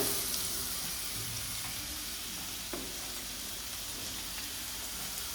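Sliced onions hitting hot oil in a home kitchen pan, giving a steady close sizzle and crackle that holds evenly throughout, with faint stirring scrapes and no talking.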